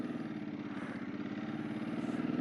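A Ducati 999 motorcycle engine running at low speed during a U-turn, a loud, close, rhythmic throbbing rumble that rises slightly toward the end.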